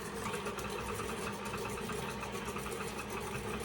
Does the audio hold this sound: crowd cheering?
no